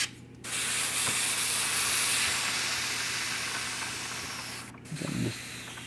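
An airbrush sprays yellow paint onto a towel in a steady, close hiss that holds for about five seconds, with short breaks at the start and near the end.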